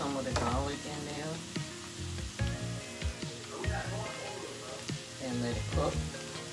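Garlic and home-style potatoes fry in a pan with a steady close sizzle, broken by scraping stirs and clinks of a utensil, while a voice talks over it.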